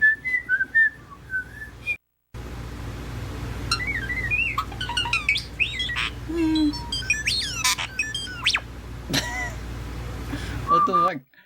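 A bird mimics a medley of odd sounds: wavering whistles, rapid chirps, swooping tones and squawks. These come close and loud in dense bursts, with a brief silence near the start and a low steady hum underneath.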